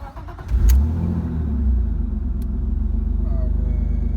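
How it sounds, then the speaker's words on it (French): A BMW drift car's engine cranks and catches, then settles into a loud, close, steady rumbling idle with a throbbing pulse and no talk over it. "On va faire un test démarrage."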